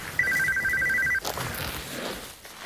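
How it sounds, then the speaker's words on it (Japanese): A phone ringtone chirps for about a second during a Japanese dodgeball game show, a bright repeating electronic trill that cuts off abruptly, followed by faint background rustle. "今着信やん。"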